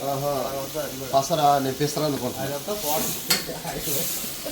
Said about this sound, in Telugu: ఆయిల్ ఫ్రై చేసేస్తున్నారు ఆ పసర వాసన లేకుండా ఉండడానికి